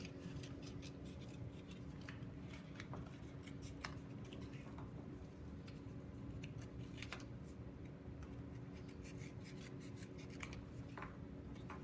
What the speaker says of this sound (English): you can use kid scissors